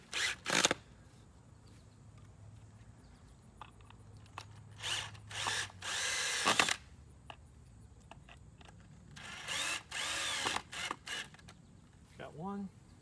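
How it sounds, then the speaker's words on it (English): Power screwdriver driving a screw through a board outdoors, several short loud whirring bursts separated by pauses, with a voice talking between them. "So take the screwdriver here,"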